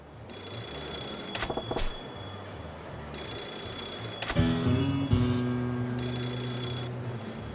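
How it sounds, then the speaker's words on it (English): A payphone rings on a street corner in Sotenbori in the video game Yakuza 0, with bright electronic bell bursts repeating in groups separated by pauses, over low background ambience and a lower tone midway. "this payphone here in this corner of Sotenbori's ringing."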